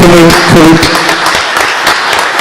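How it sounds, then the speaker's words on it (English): Clapping from an audience at a Nutley, New Jersey board of commissioners meeting rolls on steadily, with voices talking over it at the start before the applause carries alone. "Let's give them a round of applause, too"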